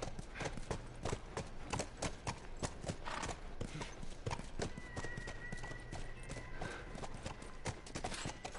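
Rhythmic horse hooves clip-clop steadily in The Last of Us Remastered, a near, continuous trot over a bed of game ambience, with a brief whinny-like tone partway through.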